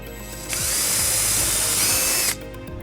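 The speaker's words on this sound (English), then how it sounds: "So what we're first gonna do is drill the back hole." A power drill whines loudly for about two seconds as it bores a hole in the body of a 2014 Volvo XC90, starting and stopping sharply, with quiet surroundings before and after.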